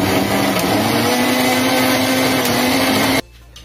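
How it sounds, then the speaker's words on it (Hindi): An electric mixer grinder whirs loudly and steadily as it grinds mint and sugar, then cuts off abruptly near the end, leaving quiet room noise. "फिर इसको मिक्सी ग्राइंड कर लेंगे। मिक्सी करेंगे, ग्राइंड करेंगे, मिक्सी में ग्राइंड कर लेंगे"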